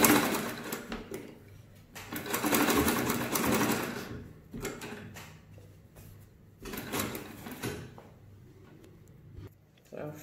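A sewing machine stitches a zipper fly in bursts: a whirring run, then a longer sustained run, followed by shorter stop-start stitching with pauses, and a voice talks between the runs.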